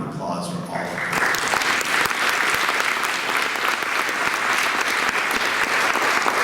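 An audience at a talk breaks into applause for the people being thanked, a brief bit of speech giving way after about a second to loud, sustained clapping that carries on evenly to the end.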